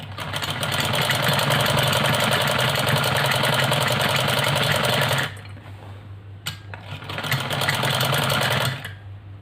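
Sewing machine stitching a ladies' salwar, a loud close motor whir with rapid needle rattle running continuously for about five seconds, a brief quieter pause, then another burst of stitching.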